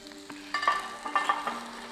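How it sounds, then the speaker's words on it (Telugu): Delicate vegetables for a spicy Thai green curry tossed in a hot pan, a steady close sizzle with several quick scraping, clattering tosses, no talking. "ఇవన్నీ కొంచెం డెలికేట్ వెజిటబుల్స్ కాబట్టి టాస్ చేస్తున్నాను."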